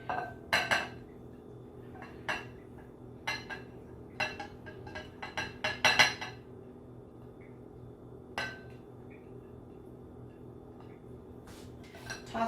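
Beets and diced onion are tossed together in a bowl, producing scattered clinks and scrapes of a utensil against the dish in short bursts, with quiet gaps between them.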